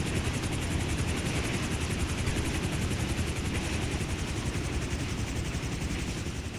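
A helicopter in GTA 5 Online gives off a steady, loud rotor thrum and engine roar that holds without a break and with no talk over it.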